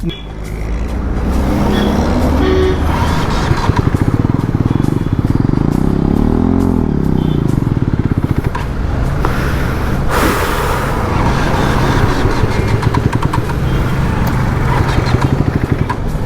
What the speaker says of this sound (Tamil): இது ஒரு வண்டி